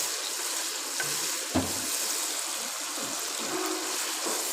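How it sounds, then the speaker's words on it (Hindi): Spices, onions and tomatoes frying in a pot for a desi chicken shorba with turmeric and black pepper make a soft, continuous hiss and sizzle, quiet and even, with a couple of faint stirring knocks. "शोरबे का कलर बेहतरीन खूबसूरत बनाने के लिए मसाले को अच्छी तरीके से भून लेना है।"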